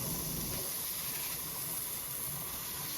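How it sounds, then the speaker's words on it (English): Hamburger patties hiss steadily in a hot skillet, a constant broadband sizzle held at an even level throughout with no voices. "add these patties to these skillet"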